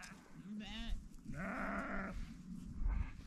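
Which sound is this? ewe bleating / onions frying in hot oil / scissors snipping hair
ewe bleating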